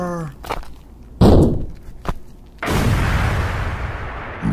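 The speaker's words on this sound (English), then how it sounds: "Reload the mortar! Fire the mortar!" Mortar fire in a Lego Star Wars animated battle: a loud, booming launch followed by a second, longer roaring blast, along with scattered thumps and no talk.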